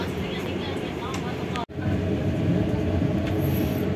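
Banyubiru executive class train running from Semarang to Solo, a steady rumble of wheels and carriage noise inside the car, with a brief dropout partway through and a voice talking over it.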